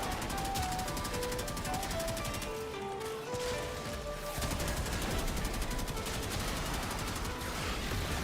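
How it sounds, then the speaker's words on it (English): Assault rifle gunfire in a video game, dense rapid bursts crackling continuously over background music, with a short lull midway before the shooting resumes hard. "I love this gun. It's so nice. It's just a meaty assault rifle."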